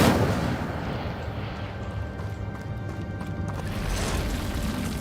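In Hogwarts Legacy, an Incendio fire spell blasts as a dense, continuous roar of broadband game noise, loud and close, swelling slightly toward the end.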